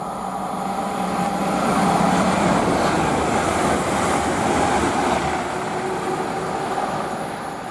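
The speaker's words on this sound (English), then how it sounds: "the next train to pass by is an Avanti West Coast Severo from Liverpool Lime Street to London Euston" An Avanti West Coast five-car train runs through Tamworth on the West Coast Main Line, a loud, steady rumble and rush of wheels on rails that swells slightly and holds throughout, with no voices.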